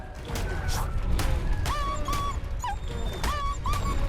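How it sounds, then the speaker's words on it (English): A dog in the video game Ark Survival Ascended whimpers and yips in a string of high, wavering cries over a steady bed of game noise and thuds during combat. "Poor dog gets beat up, man."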